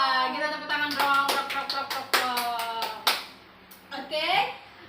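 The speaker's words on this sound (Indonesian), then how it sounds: "Kita tepuk tangan dong" Individual hands clapping close to the microphone, a series of sharp, separate claps in a quick, uneven rhythm, with a voice talking over and between them.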